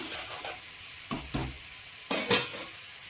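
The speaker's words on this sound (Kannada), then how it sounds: "ಹಾಲು ಚೆನ್ನಾಗಿ ಕುದೀತಾ ಇದೆ" Half a litre of milk boils in a pot for a carrot sweet while a spoon stirs it, giving a soft bubbling hiss. Several distinct scraping strokes of the spoon against the pot cut through, close and fairly quiet, with no talk.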